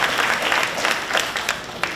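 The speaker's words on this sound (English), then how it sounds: "deserves a big round of applause" A crowd at a high school graduation ceremony applauds, a brief, fairly even patter of many clapping hands heard at moderate distance.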